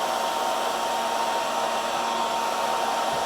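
A hair dryer blows cold air steadily at close range over acrylic pour paint, a constant airy whoosh with a faint motor whine and no pauses.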